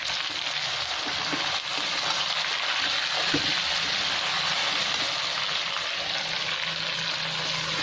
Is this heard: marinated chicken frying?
yes